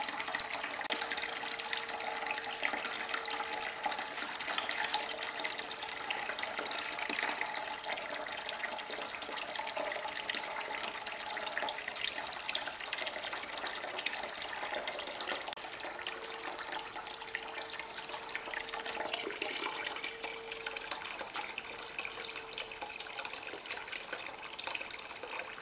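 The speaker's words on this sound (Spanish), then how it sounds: "vamos a esperar a que el agua empiece a salir clara otra vez" Flushing water runs steadily out of a car's heater core as it is drained, a continuous, fairly faint splashing and trickling flow with no talk.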